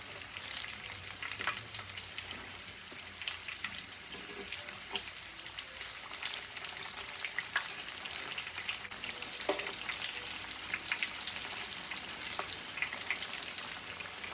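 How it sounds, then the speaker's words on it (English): Breaded pickles frying in hot oil, a continuous close crackling sizzle with scattered sharp pops, steady throughout and free of voices. "I'm gonna go ahead and finish frying the rest of my pickles"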